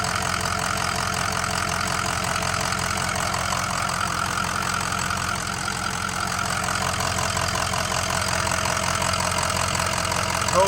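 A 2004 Ford Excursion Limited Ultimate with a 6.0L Powerstroke diesel engine and 4WD idles steadily and loudly, a continuous rough, ticking diesel rumble close by with no talking.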